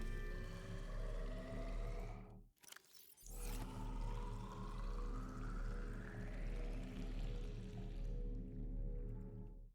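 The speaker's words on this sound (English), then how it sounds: "I don't know why it made it sound like it was pouring water out." Water pouring in the underwater game Subnautica Below Zero, a continuous rushing, gurgling flow over a low hum, cut by a brief gap and burst of noise before resuming and fading near the end.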